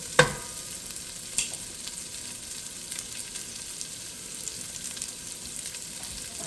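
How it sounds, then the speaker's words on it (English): Red onion sizzles in a pan with kielbasa, a steady soft crackle under a couple of sharp utensil clinks as it is stirred. "I'm going to saute this around and get them nice."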